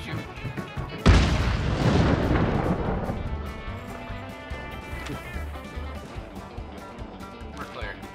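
A single heavy gunshot booms close by in Hunt: Showdown, followed by a long rumbling echo that fades over a few seconds, with quieter game sounds after.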